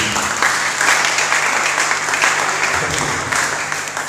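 A church congregation at a Sunday service applauds for the glory of Jesus, loud sustained clapping from a large crowd filling the room, steady throughout.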